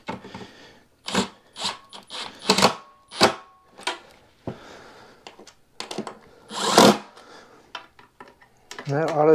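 A Milwaukee power driver runs workbench bolts into a Husky 52-inch variable-height workbench in a series of short, loud bursts with brief pauses between them, and a voice talks near the end.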